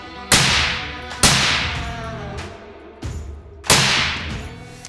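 Four suppressed shots from a semi-automatic M4 rifle ring out at uneven intervals, each a sharp crack trailing into a brief echoing decay, fairly loud and punchy with no voices.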